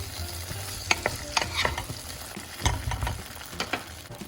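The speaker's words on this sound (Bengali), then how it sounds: "তেলটা গরম হয়েছে, আমি প্রথমেই সবজিটার মধ্যে গ্রিন বিনসটাকে আগে দিয়ে দিচ্ছি" Green beans stirred in hot oil in a pan for chopsuey, giving a low sizzle with irregular scrapes and clatters from the utensil against the pan.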